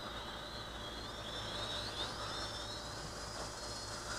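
A small XINLIN SHIYE X118 quadcopter drone hovers nearby with a steady high-pitched whine that rises and falls slightly as the rotors adjust, heard alone without talk.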